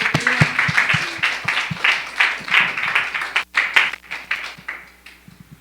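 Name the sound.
congregation applause in church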